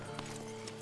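Horse in the video game Red Dead Online, a couple of soft hoof clops and a faint whinny over a steady low game hum, brief and fairly quiet.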